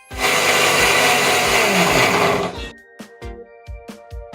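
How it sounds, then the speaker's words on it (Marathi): Kitchen mixer grinder blending onions and spices for a Satara misal, a loud continuous motor whir that stops abruptly, followed by several sharp knocks and clunks of the jar. "आता मी हे सगळं मिक्सरमध्ये टाकून वाटून तुम्हाला दाखवते।"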